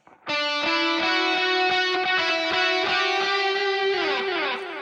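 A distorted electric guitar running through a Fractal unit with a pronounced delay rings out sustained chords and notes in a live worship verse tone, repeats trailing behind each note, loud and close with no talking.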